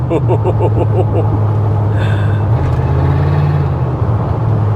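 A Ford F150 pickup engine idles steadily and loudly without overheating or smoking, a low constant rumble with a brief shift in pitch midway and faint voices underneath.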